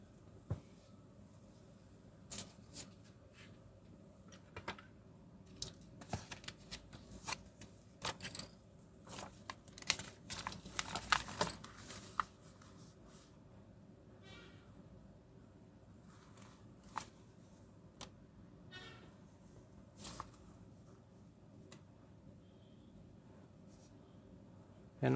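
A Hero fountain pen scratches across paper in short, faint, irregular strokes, close up, with a quiet background hum and a brief cluster of denser scratching midway.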